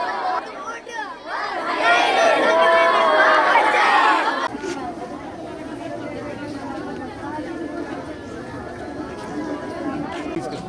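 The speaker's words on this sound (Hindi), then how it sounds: "साहिल के जनाजे में जबरदस्त भीड़ है।" A large crowd gathers at a funeral procession, with dense overlapping chatter and raised voices that are loud at first, then drop to a steadier, more distant murmur.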